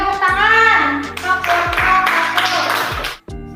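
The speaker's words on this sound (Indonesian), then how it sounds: "Iya, tepuk tangan" Sixth-grade children clap in a classroom, a burst of quick, scattered clapping from many hands with young voices talking over it, stopping abruptly near the end.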